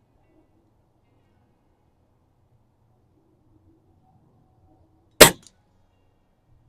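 A single sharp crack from a Cometa 220 break-barrel spring air rifle fired outdoors in strong wind, one short, loud report in otherwise near-silence.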